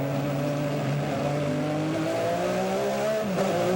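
Several racing cars roar past the onboard camera of the number 23 Porsche, driven by Lucas Luhr, during the 2001 American Le Mans Series race at Sonoma, with steady loud engine drone and shifting pitch as cars go by.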